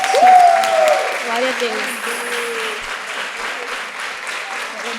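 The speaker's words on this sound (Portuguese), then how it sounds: "palmas, gente." A podcast studio audience claps steadily in a broad wash of applause, loudest at the start and tapering slightly, while a voice speaks over the opening moments.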